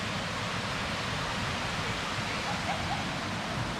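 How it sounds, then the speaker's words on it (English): Kaaterskill Falls in the Catskills, heard from the top of the falls: a steady, even wash of falling water, broad and unbroken, fairly faint and continuous throughout with no voices. "Looks like we're at the top of the falls"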